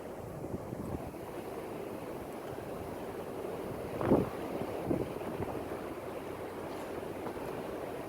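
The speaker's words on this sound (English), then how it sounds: "this wind will push me down everywhere" Steady wind blowing outdoors across open water while fishing from a boat, a constant low rushing roar with mic buffeting and a brief gust or knock midway, no talking.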